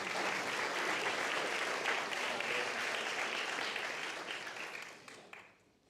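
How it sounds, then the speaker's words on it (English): An audience at a fire academy graduation ceremony applauds a graduate in a full, even round of clapping that tapers off and fades out near the end. "Y'all can clap, yeah."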